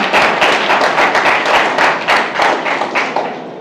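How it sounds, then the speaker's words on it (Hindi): Loud, dense clapping from an audience welcoming a guest speaker, a rapid run of overlapping hand claps that starts at full strength and fades slightly near the end. "तो मैं चाहूंगा एक बार जोरदार तालियां सर के लिए।"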